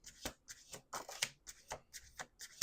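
A deck of tarot cards is shuffled close by in short, soft riffling bursts that repeat roughly every half second and stay faint throughout.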